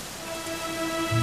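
Rain falls steadily in Dragon Quest XI, a soft continuous patter under a quiet held musical tone, with a low rumble rising near the end and no voices.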